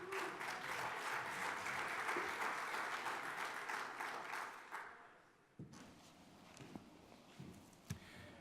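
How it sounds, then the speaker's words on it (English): Loud audience applause fills the first five seconds, a dense steady clatter of clapping that then fades out, leaving scattered room noise and a few thumps. "So give Greg a big round of applause"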